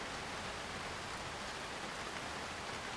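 Steady rain pours down in a scene from a Malayalam film, a dense, even hiss that holds without a break for the whole stretch with no voices over it.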